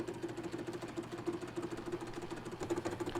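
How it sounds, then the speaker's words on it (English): A metal lathe takes an interrupted cut into a deep groove on a steel part, giving a faint rhythmic chatter of repeated knocks over a low motor hum. "Turning an interrupted cut like this into a deep groove presents a bit of a challenge"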